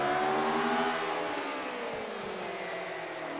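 A McLaren M23 race car engine in Forza Motorsport 5 drones steadily at high revs, a loud continuous whine whose pitch sags slightly over a few seconds as the damaged car struggles, with no talk over it.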